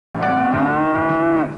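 Cattle mooing in a Brazilian beef advertisement, a single long, loud, close moo lasting over a second and heard alone.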